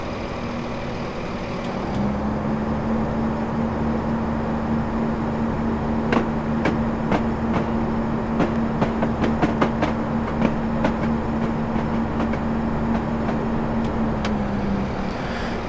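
Train Simulator 2018 game train on the North Wales Coast line near Llandudno, rolling steadily on rails with a sustained low engine drone and a run of sharp clicks and clunks partway through, no talk.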